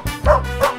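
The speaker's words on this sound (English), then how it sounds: "Dog." A dog gives two short, close yipping barks in quick succession, loud and alone with no other sounds around it.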